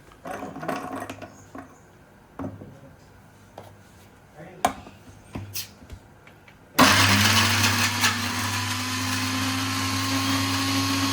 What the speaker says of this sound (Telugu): మిక్సీ వేసుకుందాము. శుంఠి తెల్లగడ్డల పేస్ట్ కావాలా?